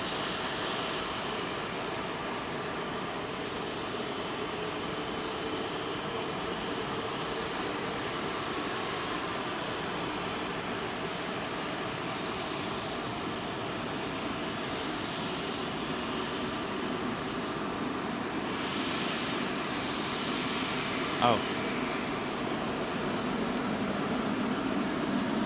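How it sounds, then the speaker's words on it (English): A Boeing 747 rolls for takeoff on Heathrow runway 27L, heard as a steady, fairly distant broadband jet roar. The sound holds level for the whole stretch, with no talk. "we're going to get a great roll-on audio note from that 747"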